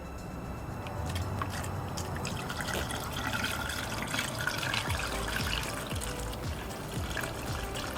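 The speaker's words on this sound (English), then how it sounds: "we're going to put more coolant in now" Coolant poured into the cooling system of a BMW E46 during a thermostat replacement, a steady close liquid gurgle and trickle running throughout without speech.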